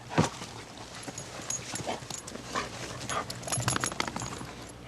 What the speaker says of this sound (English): Boy, he's a happy dog.